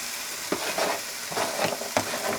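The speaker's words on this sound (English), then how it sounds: "And just give that a stir." Vegetables for a vegetarian chilli frying in a pan and stirred, a continuous moderate sizzle broken by several rhythmic scraping strokes of the spoon, with no voices.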